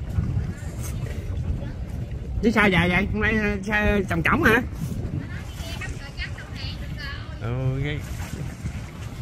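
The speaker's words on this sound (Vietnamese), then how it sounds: "Cái ghe mà đi tìm xác chết đó, chạy tới mẫu 3 rồi" A boat searching a river for a corpse motors along, its engine a low steady hum mostly buried under nearby conversation and wind.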